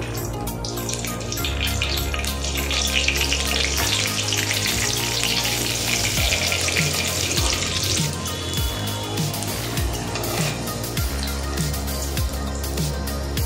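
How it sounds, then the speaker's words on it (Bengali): Batter-coated food fries in hot mustard oil, a loud, continuous close-up sizzle and crackle that holds steady throughout, with a low droning hum underneath and no talking. "এইভাবে আমি ব্যাটারে মাখিয়ে এবার আমি ভেজে নেব"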